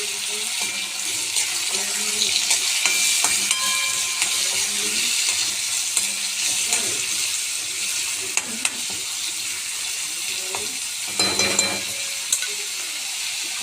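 Finely chopped tomato frying in a pan while being stirred. A continuous close sizzle runs under repeated scraping and clinking of a spoon against the pan, with a louder burst of stirring near the end.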